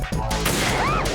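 A single sharp gunshot cracks in Metal Gear Solid 2: Sons of Liberty, loud and close, followed by a brief rising whine under low game ambience.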